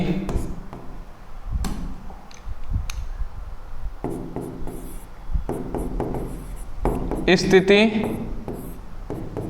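Chalk or marker writes on a board in a classroom lesson, with short scratchy strokes and taps scattered across the stretch while a teacher talks throughout.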